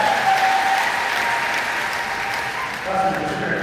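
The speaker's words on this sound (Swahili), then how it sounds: "Tupige makofi sana." A Catholic parish congregation at Sunday Mass claps loudly and continuously, a dense roar of hands filling the church, while a voice or two carries faintly beneath it.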